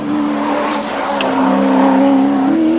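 Alan Grice's Roadways Holden Commodore V8 race car climbs Mount Panorama toward the Wilco cutting in 1984 racing, its engine droning loud and steady with revs rising near the end, a brief tire squeal heard partway.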